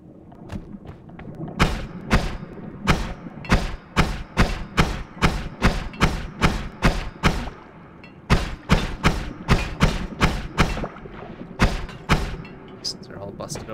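Explosions in the video game Noita go off in a rapid series of dozens of heavy thuds, a steady pounding rhythm with a short pause midway, over low background game sound.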